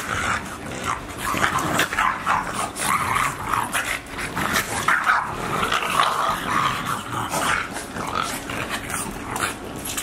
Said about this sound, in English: This is Nina trying to put these dogs in their place when she feels like they out of line.